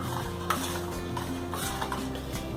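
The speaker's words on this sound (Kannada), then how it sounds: "ಈಗ ಕಾಯಿ ಹಾಲು ಮತ್ತು ಮಾವಿನ ಹಣ್ಣನ್ನು ಈ ರೀತಿ ಸರಿಯಾಗಿ ಮಿಕ್ಸ್ ಮಾಡ್ಕೊಳ್ಳೋಣ." A spoon stirs coconut milk and mango together for mango rasayana, giving soft repeated wet swishes and light clinks against the bowl, close by and steady with no voices.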